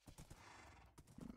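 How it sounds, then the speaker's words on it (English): A horse in a Minecraft modpack game gives a quick run of clip-clopping hoof steps, then a closer, louder whinny-like burst, with no one talking. "Now we need to find a horse. Let me just find a horse and tame it."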